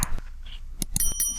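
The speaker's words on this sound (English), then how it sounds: "Click that bell notification. Click ting." A bell notification ding rings out in a few bright, ringing chimes that decay quickly, with small clicks and bumps before them and no talking.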